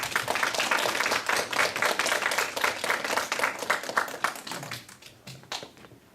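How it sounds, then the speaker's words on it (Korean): A lecture audience gives dense, lively applause to welcome a guest visiting from Canada. The sustained clapping rises quickly, holds for about four seconds, then tapers to a few scattered claps. "좀 일어나시고 우리 박수로 환영해."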